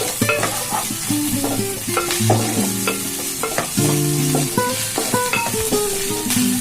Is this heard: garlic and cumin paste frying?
yes